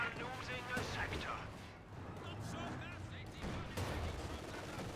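Gunfire and an anti-tank gun shot from a Company of Heroes 2 match sound as scattered, muffled battle bursts against a busy background, with people talking over the fighting throughout.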